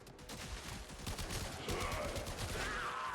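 A weapon fires automatically in the video game Warframe, a steady rapid stream of gunshots that keeps going at even loudness with no break for the whole stretch.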